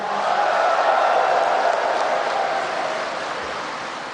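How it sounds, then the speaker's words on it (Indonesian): Dense, steady roar of applause from a large crowd at the closing of a PKB political party congress in Nusa Dua, Bali, holding loud for several seconds before easing slightly toward the end. "Tepuk tangan untuk DPC-DPC se-Indonesia."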